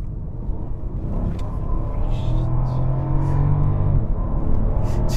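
A Mercedes-Maybach S650 with a V12 engine accelerating hard on a road, a deep, loud rumble that builds and holds with a rising engine tone, heard from inside the car, with no voices.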